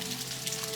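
Steady rain falls on a rainy morning in Door County, a soft, even wash of close patter with no voices and no breaks.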